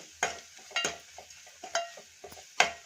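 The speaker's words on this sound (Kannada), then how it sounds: "ಈಗ ಚೆನ್ನಾಗಿ ಮಿಕ್ಸ್ ಮಾಡ್ಕೊಳ್ಳೋಣ" Ivy gourd curry is stirred with cumin powder in a pan, giving intermittent scraping strokes with a spoon and a faint sizzle underneath. The strokes come close up in an uneven rhythm.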